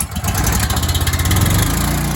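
A gas-powered pressure washer engine, started cold with the choke pulled, catches and runs with a loud, steady, pulsing mechanical drone close by.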